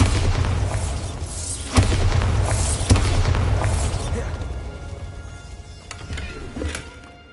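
A Bombarda spell explosion in a Harry Potter video game: a deep boom followed by another sharp blast a second later, with rumbling debris and game effects that fade gradually as a voice talks over them.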